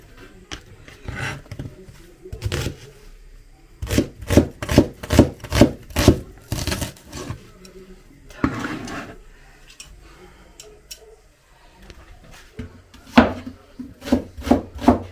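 A knife chops onion on a board in quick rhythmic bursts of sharp taps, with pauses between runs, close and fairly loud.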